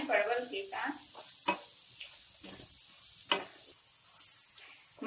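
Ground spice masala with red chili powder and pointed gourd (parwal) being stirred and fried in a pan: a low, steady sizzle with occasional sharp spoon scrapes and clicks against the metal.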